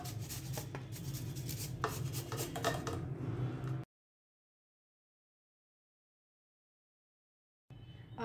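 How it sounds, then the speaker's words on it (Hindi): A potato being grated for palak pakoda, giving a steady rapid scraping rhythm for several seconds, then silence and a brief return of scraping at the end. "अब हम यहाँ पर आलू लेंगे और इसको अब यहाँ पर हम"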